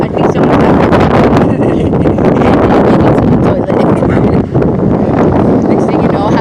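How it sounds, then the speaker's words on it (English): Strong outdoor wind buffets the microphone in a loud, continuous roaring rumble that swells and dips slightly but never lets up, swamping the whole stretch. "Sorry, it's so windy."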